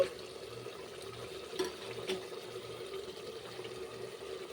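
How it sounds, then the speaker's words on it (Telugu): A glass of water runs into mutton curry cooking in a pressure cooker, a soft, steady pouring trickle, faint and close, with a couple of small clinks. "మనం కొంచెం వాటర్ యాడ్ చేసుకుందాం"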